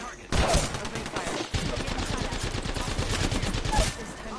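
Rapid automatic gunfire rattles in a shooter video game, a loud, fast burst of repeated shots running almost continuously after a brief quiet start, close and dense with no spoken words.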